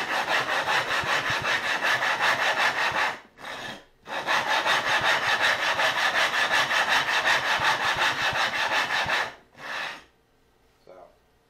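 A sharpening stone being rubbed back and forth to flatten it on a grooved, two-sided glass lapping plate; loud, harsh gritty scraping runs continuously, breaks briefly twice, then stops.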